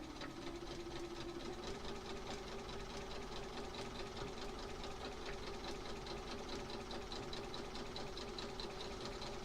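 A sewing machine stitches a quilt with a fast, even mechanical chatter that runs steadily throughout at a moderate, close level.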